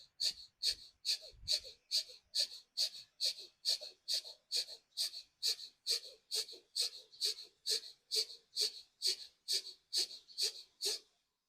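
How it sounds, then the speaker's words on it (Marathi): Kapalbhati pranayama breathing: about twenty forceful, evenly spaced exhalations through the nose, each a short sharp puff in a steady rhythm, close and fairly faint. "त्यानंतर करायचा कपालभाती, श्वास बाहेर सोडण्याचा"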